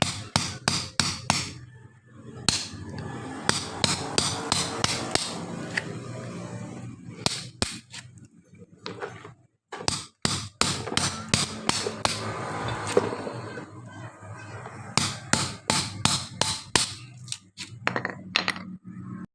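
Sharp, repeated metallic hammer blows ring out as a chisel knocks the old winding out of a diesel-powered electric dynamo, struck in irregular bursts with short pauses between them, close and loud.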